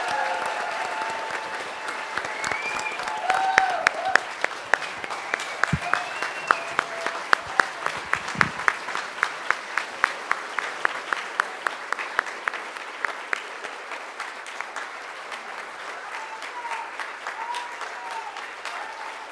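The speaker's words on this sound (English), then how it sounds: "Massive round of applause." Conference audience applauding at a Reclaiming Canada gathering, a dense sustained round of clapping that swells and then gradually thins out, with a few voices faintly heard beneath it.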